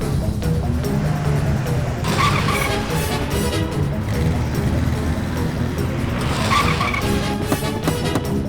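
A car pulls away in a hurry, with engine roar and tire squeal rising in two loud surges over steady road noise and a busy film soundtrack.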